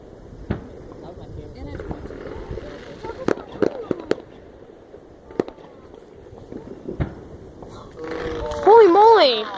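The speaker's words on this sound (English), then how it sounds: "We got 2 fireworks shows happening right now." Fourth of July fireworks in 2021 go off as a series of sharp, scattered pops and bangs at middle distance, with people chatting throughout and a brief warbling whistle near the end.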